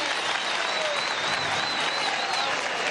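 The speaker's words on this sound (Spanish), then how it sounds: "Vamos a darle un aplauso a Morelis," Audience at a communal event applauds steadily throughout, a dense continuous wash of clapping from a crowd, with a faint whistle-like tone running above it.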